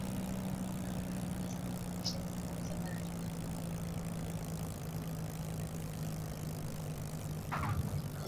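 Aircraft engine in Microsoft Flight Simulator 2020 throttled back to idle on approach in Alaska, a steady low droning hum held evenly throughout, with faint brief clicks and a short rise near the end.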